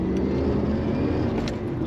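Inside a 1992 Lotus Carlton driving steadily, a continuous low engine and road rumble holds at a constant loud level with no clear revving, like an ordinary car cruising.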